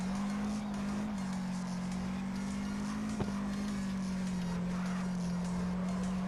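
Car drifting in the CarX Drift Racing Online game, a steady droning engine tone holding near one pitch with slight wavering for the whole span, close and continuous with no talk.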